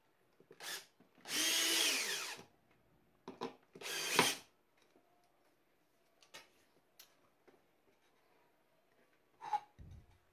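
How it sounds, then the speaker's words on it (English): A power drill drives screws through industrial pipe flanges into plywood: short whirring bursts, one longer spin and several brief blips with quiet gaps between, fairly close and alone. "Here you attach the industrial pipes to the plywood with the four screws."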